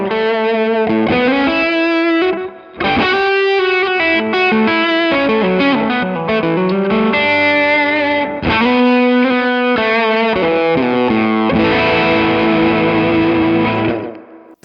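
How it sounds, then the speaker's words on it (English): Overdriven electric guitar lead played through a pedalboard of effects, sustained distorted notes with a chorus-like shimmer and reverb tail, continuous and loud with brief gaps, no talking. "Especially love it with like leads. Like with some overdrive."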